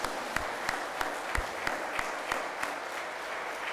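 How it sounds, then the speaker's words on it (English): A convention audience gives a round of applause, a faint, distant patter of many hands with a few sharper individual claps standing out at roughly regular intervals. "I want to give you a round of applause"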